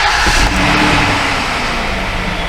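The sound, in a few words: car engine starting and running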